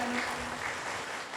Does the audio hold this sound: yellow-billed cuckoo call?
no